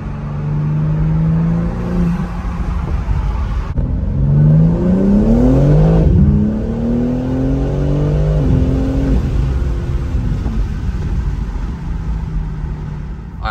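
BMW M3 Competition accelerating hard, its engine rising in pitch through a couple of gear pulls with a loud, steady drone heard from inside or close by; a blow-off valve release is not clearly distinct.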